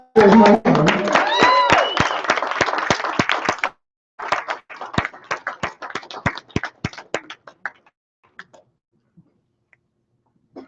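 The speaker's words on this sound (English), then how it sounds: "give this young lady a round of applause" Audience applause at a group's Monday evening event, starting as a burst of clapping under cheering voices, then breaking off and trailing into scattered, close individual claps that fade to near silence.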